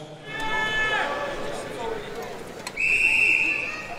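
Referee's whistle starting a strongman pull event at a World's Strongest Nation contest, one sharp sustained blast near the end, preceded by an announcer's rising voice over crowd noise.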